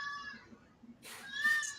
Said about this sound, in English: that's my cat. She's very vocal because this is her house.